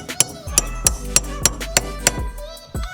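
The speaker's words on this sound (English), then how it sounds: "we're gonna grab this socket, and we're gonna hammer that into place." Sharp metallic hammer taps drive a socket into place during a shifter install on a Mitsubishi Evo X, a quick, fairly even series of about eight ringing blows, close by.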